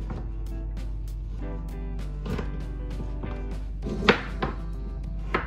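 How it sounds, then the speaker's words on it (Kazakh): Knife chopping meat on a board for mampar soup, a series of irregular, moderately close thuds and knocks against a low steady background hum, with a sharper louder stroke near the end. "Енді етімізді турап аламыз."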